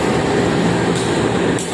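Gaya Baru Malam Selatan passenger train on the Jakarta–Surabaya line, a loud steady rumble of the locomotive and rolling carriages with continuous low-pitched engine and wheel noise throughout.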